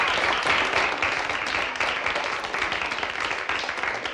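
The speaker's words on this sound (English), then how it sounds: "bit of encouragement from the crowd for Bankster" Crowd applause at a virtual 9-ball pool world championship match, a continuous patter of many hands clapping at moderate loudness throughout, with no talk over it.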